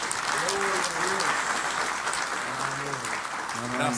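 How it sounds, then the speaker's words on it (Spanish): A church congregation gives a guest pastor a warm round of applause. Sustained, fairly distant clapping fills the hall while a sustained tone sounds over it. "Recibimos al hermano pastor invitado con un fuerte aplauso."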